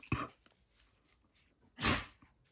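Two short, sharp sneezes about a second and a half apart, the second louder and fuller, close to the microphone in a quiet room.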